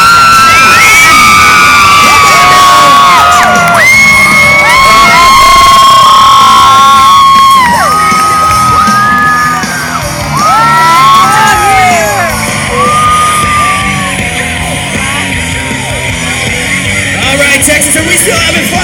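A large crowd at the Texas State Fair cheers and screams loudly for free stuff, a sustained wall of shouting and high-pitched yelling with children's voices rising over it for the whole stretch.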